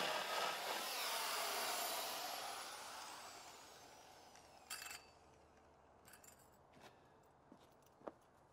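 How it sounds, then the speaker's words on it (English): A jigsaw cuts down through wood, a loud, steady buzzing whine at the start that winds down and fades over a few seconds, followed by near quiet with a few faint clicks and knocks. "use the jigsaw to cut down through"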